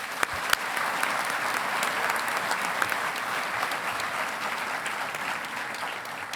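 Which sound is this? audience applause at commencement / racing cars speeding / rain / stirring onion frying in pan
audience applause at commencement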